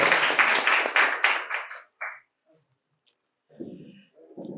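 An audience at a quiz competition at a medical college and hospital claps loudly for about two seconds, then fades to sparse claps and brief noises.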